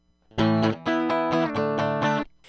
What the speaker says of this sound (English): I'm going to play big open power chords